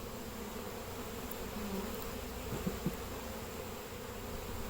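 Honeybees droning steadily around an open hive frame during a beekeeping inspection, a faint continuous low buzz with a couple of soft bumps near the end, no talking.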